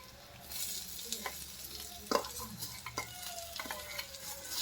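Prawns sizzle and fry in a pan for a Kerala-style prawn roast, with steady hiss broken by several sharp scrapes and knocks of stirring, close and moderately loud, no voices.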